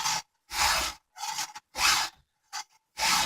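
A hand file rasps across the cutter teeth of a chainsaw chain in six or seven sharp, even strokes with brief pauses between, close up and alone.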